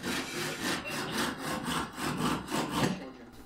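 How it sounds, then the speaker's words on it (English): Wood is cut on a saw for a shop-made screwdriver, a close, steady back-and-forth rasp in about a dozen even strokes before it stops. "So I cut this off right there on the saw."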